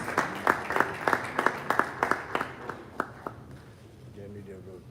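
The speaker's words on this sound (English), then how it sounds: "Let's keep the round of applause going as he takes his seat." Brief applause at a presidential business delegation event hosted by Ghana's president for the Czech president, with distinct rhythmic claps in unison that slow and fade out after about three seconds into quiet room tone.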